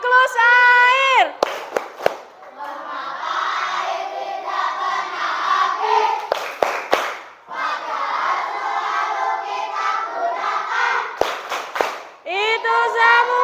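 A class of fifth-grade children chants loudly in unison and claps during a water-cycle clapping game, with sharp clap bursts between stretches of shouted group voices.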